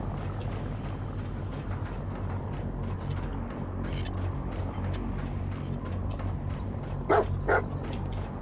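In Fallout 4, a dog companion gives two quick barks near the end, heard over a steady, busy game background.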